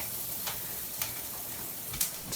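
Food stirred in a cast iron skillet while zucchini and tomato cook, a steady sizzle with a few soft scraping clicks as the spoon works the pan bottom, close and alone.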